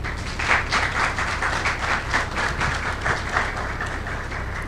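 Audience applause at a collaborative-networks seminar, a dense, even wash of many hands clapping that holds steady for several seconds without voices.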